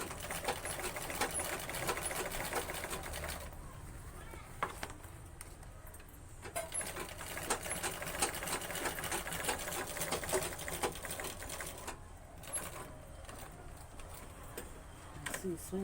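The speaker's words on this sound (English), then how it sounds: "You lock your stitch and you start sewing it." A sewing machine stitches a handmade pearl fashion bag, its steady mechanical whir running continuously at moderate loudness with brief pauses, while a person talks over it.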